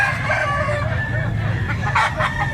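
A black-leg native rooster crows loudly and close by, a drawn-out strained call over a steady background murmur.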